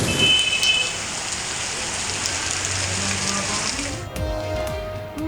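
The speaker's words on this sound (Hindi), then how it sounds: "लोरालाई में दूसरे रोज भी मूसलाधार बारिश" Torrential rain pouring down in Loralai, a loud, steady hiss of heavy drops hitting the ground that eases slightly at the very end.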